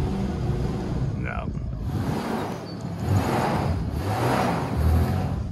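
An all-wheel-drive Ford Escape engine strains as it pushes another car, a steady close low rumble that swells slightly near the end, with a short voice-like sound early on.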